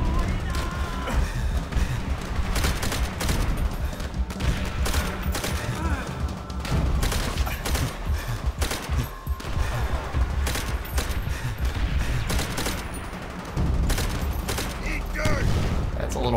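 Dense, continuous battlefield gunfire in the World War II shooter Call of Duty: World at War at Shuri Castle, rapid shots and volleys rattling throughout with crashes mixed in, while someone talks over it.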